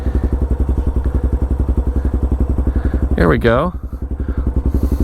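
A motorcycle rumbling in gear at walking pace as the rider eases the clutch out slowly during a basic skills practice session, a close, steady pulsing engine beat with a brief voice breaking in partway through.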